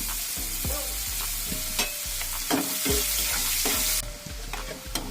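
Onions sizzle steadily in hot oil while a utensil scrapes and stirs through them in a regular rhythm, close by, with no talking.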